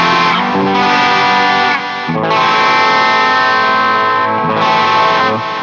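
Schecter Banshee electric guitar played through the boosted channel of an ENGL rack preamp, a loud, saturated, sustained chord tone with a brief dip near the middle before ringing on again.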